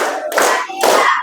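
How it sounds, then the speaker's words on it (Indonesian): A classroom of students clapping in unison in a patterned rhythm, two sharp bursts of loud, close hand claps separated by a brief pause. "sebelum belajar kita tepuk 1, tepuk 2, tepuk 3"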